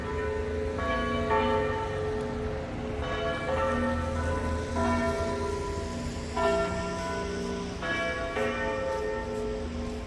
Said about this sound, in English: There's the bells from the town hall.